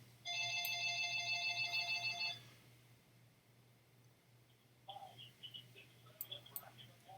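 A phone ringtone plays near and loud in a room for about two seconds as a repeating electronic trill, then stops, followed by quieter clicks and faint background noise.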